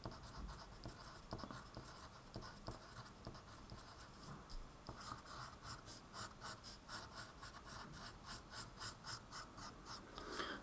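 Pen or pencil scratching across paper while a maths sequence is written out by hand, a steady run of small scraping strokes with brief rhythmic bursts, close and fairly quiet.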